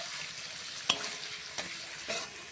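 Chopped tomatoes are stirred with fried ginger in a sizzling pan, three distinct spatula scrapes against a steady frying hiss.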